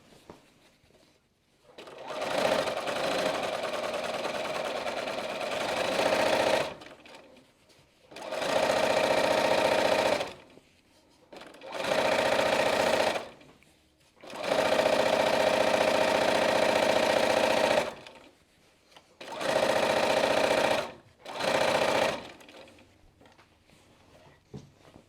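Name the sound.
sewing machine stitching fabric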